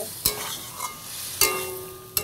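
Chicken being stirred and sautéed in a pan during home-style cooking, with a few sharp scraping strokes of the spoon over a soft, steady sizzle.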